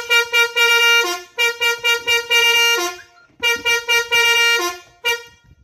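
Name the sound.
basuri horn sounding on motorcycle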